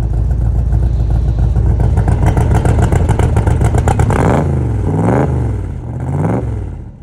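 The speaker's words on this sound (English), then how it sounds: "We kick off with firing up the MG after a month of hibernation. And then fire up a Shelby Cobra rep for a test drive." An MG roadster or a Shelby Cobra replica engine fires up after a month of sitting idle, running loud and rough close by, then revving in three rising-and-falling blips toward the end.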